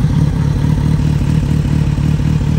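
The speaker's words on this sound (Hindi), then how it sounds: "सो यश एक बार बाइक स्टार्ट करना भाई" A Kawasaki Z900 motorcycle engine running just after starting, a loud, close, steady low-pitched idle with rhythmic pulsing throb, no talking over it.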